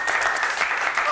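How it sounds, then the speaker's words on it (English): A television studio audience claps in a brief, dense burst of applause, close and continuous. "You can't applaud, you're frightening the cat"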